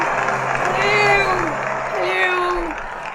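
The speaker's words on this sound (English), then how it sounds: "Please give her a round of applause." Audience applauding at a Commonwealth awards event as the Queen is welcomed, steady crowd clapping and cheering with whoops, a voice or whistle gliding over the top and talk mixed in.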